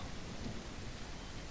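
A thunderstorm rolls on in The Isle Evrima game, heavy rain hissing steadily while low thunder rumbles underneath, quiet and continuous with no voices.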